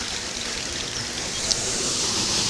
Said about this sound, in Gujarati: પાણી આવે છે.